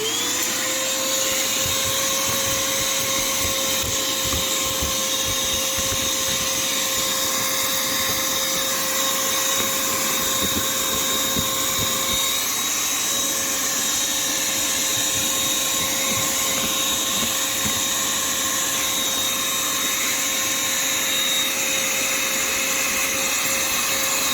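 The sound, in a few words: vacuum cleaner cleaning car seat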